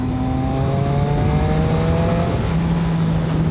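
A Yamaha MT-09 motorcycle pulls away at about quarter throttle, its engine note rising steadily in pitch, loud and close, with no talking.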